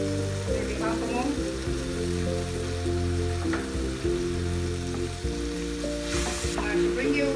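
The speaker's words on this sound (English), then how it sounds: "Mushrooms are thoroughly cooked. I'm going to add some cream cheese and double cream." Cooked mushrooms sizzle in a pan with cream cheese and double cream, a soft steady frying hiss beneath a continuous tonal music bed throughout.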